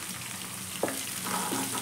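Mustard seeds, cumin and fenugreek frying in oil for green mango chitranna, a steady soft sizzle with a few light stirring scrapes, close and alone with no talk.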